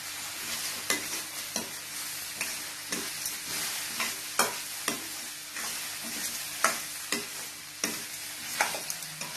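A spoon scrapes and knocks rhythmically through bottle gourd sizzling softly in a frying pan, steady stirring strokes roughly every half second.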